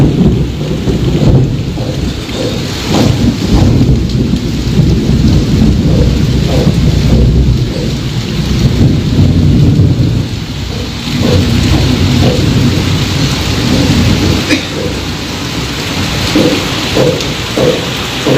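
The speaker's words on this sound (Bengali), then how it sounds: "দেখতে পাচ্ছেন বাজও পড়ছে" A heavy downpour in Arambagh pours down steadily and loudly throughout, with deep rolling thunder rumbling beneath the dense hiss of rain.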